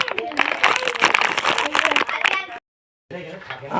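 Plastic Amul milk packet holding a papad being handled, producing dense crinkling and crackling bursts close by, with a voice at moments, then a sudden break in the sound before the rustling resumes.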